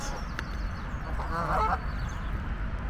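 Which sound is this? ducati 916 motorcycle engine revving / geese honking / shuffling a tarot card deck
geese honking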